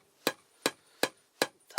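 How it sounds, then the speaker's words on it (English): A small handmade hammer taps upholstery pins into the edge of a Scottish targe: five sharp, evenly spaced knocks about 0.4 seconds apart, close and clear against quiet. "Tap them in just around the edge."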